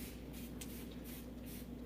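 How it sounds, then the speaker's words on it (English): Several quick bursts of water sprayed onto a painting on paper for dry mounting hiss in a steady rhythm, close and fairly soft, over a low background hum. "I spray water to relax the painting."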